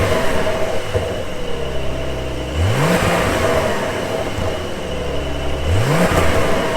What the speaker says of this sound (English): Okay, now let's rev it up.